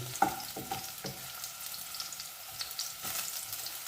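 Garlic browning in a pan, a soft sizzle broken by a few clinking stirs and scrapes of a utensil, fairly quiet and close.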